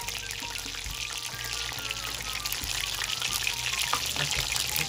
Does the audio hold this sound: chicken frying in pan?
yes